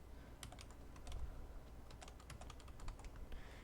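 Rapid clicking of keys on a computer keyboard, a quick irregular run of light taps with short pauses, close and fairly quiet against a faint background hiss.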